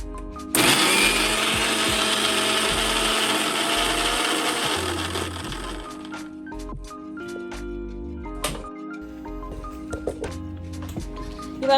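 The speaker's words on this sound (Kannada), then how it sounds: "ಸೋಕ್ ಮಾಡಿರೋ ಕಡಲೆಬೇಳೆನ ಯಾವುದೇ ನೀರು ಇಲ್ದಂಗೆ ಅದ್ರ ಜೊತೆಗೆ ಗ್ರೈಂಡ್ ಮಾಡ್ಕೊಳ್ಳೋಣ" A kitchen mixer grinder in pulse mode grinds soaked chana dal without water for masala vada. A loud whirring burst runs for about five seconds, then gives way to quieter, intermittent clicks and rattles of the jar.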